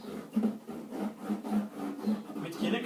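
Paper is glued and rubbed down onto cardboard by hand, making soft, repeated scraping strokes in a quick, uneven rhythm that stay close and fairly quiet.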